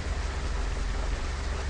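Steady rain pours down in the video game Minibus Simulator Vietnam, a dense, even hiss of heavy rainfall with a low rumbling undertone, continuous and alone.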